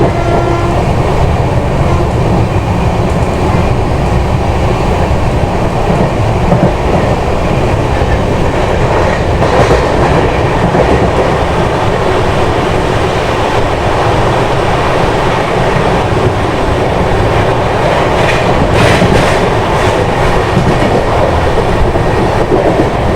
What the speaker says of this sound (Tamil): ரொம்ப ஸ்லோவாக போயிட்டு இருக்கு வண்டி.